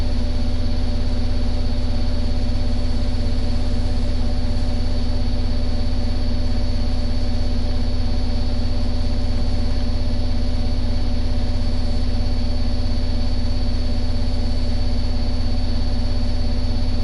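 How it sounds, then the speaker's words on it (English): A washing machine running in the background, a steady loud droning hum with a constant low rumble that holds unchanged throughout without pauses. "My washing machine is on, so I apologise, guys, right now."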